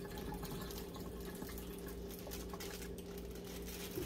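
Water is poured out of a bag of instant noodles, making a steady continuous trickling splash under a constant background hum.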